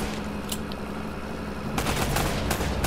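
Gunfire in the action video game Uncharted: Drake's Fortune, a steady low rumble of shots that grows denser and louder partway through, with sharp bursts standing out near the end.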